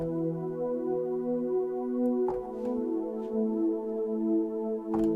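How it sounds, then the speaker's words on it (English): A warm, sustained synth pad chord holds steady and open, with soft low tones and a gentle, even swell throughout, alone. "this is my favorite pad sound out of everything that I have access to"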